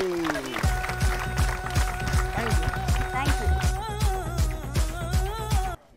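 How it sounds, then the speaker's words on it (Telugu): A studio audience on a TV entertainment show applauds loudly for a girl, steady dense clapping close up, with a host's voice and music running underneath. "గట్టిగా చప్పట్లు కట్టండి అమ్మాయికి"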